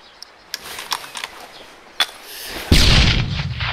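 A 40mm grenade explodes close to a squad in ARMA 3 after a few scattered distant gunshots, the blast hitting hard and then rumbling on loudly.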